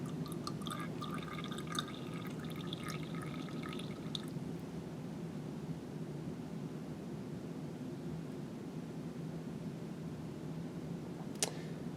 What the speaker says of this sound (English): It's done dripping, so I'm going to carefully bring this out.